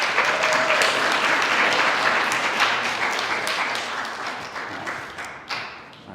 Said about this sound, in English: Can we get another round of applause for Ms.